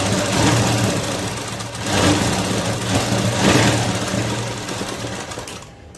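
Sewing machine stitching a folded hem on cloth, a loud, fast, steady mechanical whirr close by, briefly easing in pace before stopping at the end.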